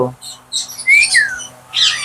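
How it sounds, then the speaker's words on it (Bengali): Baby mynah birds squawking at a bird seller's, several shrill, rasping calls and a rising whistle-like cry in short bursts, close and loud, with a faint low hum behind them. "দুইটা ময়না বেবি রয়েছে খুব সুন্দর ছেলে মেয়ে মিলানো রয়েছে"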